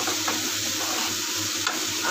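Tomato and onion fry in a pan with a dense, continuous sizzle, close and steady, broken only by a couple of faint stirring scrapes and no voices.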